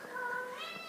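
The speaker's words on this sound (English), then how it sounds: "that's just our cat meowing" A house cat meows in the background, a single drawn-out, rising call lasting about a second, clear and fairly close with no talk over it.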